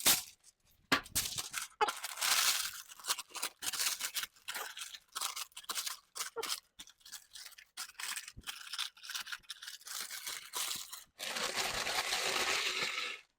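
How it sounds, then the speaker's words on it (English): Parchment paper being crumpled by hand in a kitchen, a series of crisp, crackling bursts and rustles close to the microphone, with short pauses between them and a longer crinkle at the end. "Crumple your parchment paper a little bit"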